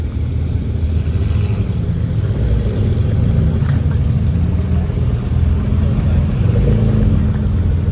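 Supercars roll slowly down a New York street closed by police, their engines giving a loud, steady low rumble that stays close throughout with no sharp revving, and speech is heard over it.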